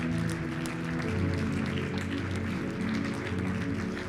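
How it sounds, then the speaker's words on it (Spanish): Loud, sustained applause from a church congregation with music playing underneath, steady throughout. "Dele ese aplauso bien fuerte al Señor."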